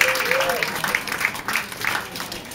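A comedy club crowd answers a stand-up comic with loose, patchy applause and a few claps, while the comedian keeps talking over it.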